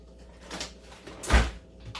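A kitchen drawer slides open to get out a straw, a single short bump and rattle near the middle of an otherwise quiet room.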